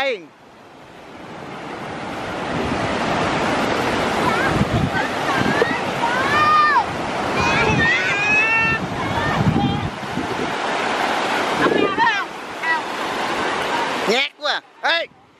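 Sea waves at a beach in Vung Tau, a loud continuous wash of surf with wind buffeting the microphone, while voices call out and talk over it.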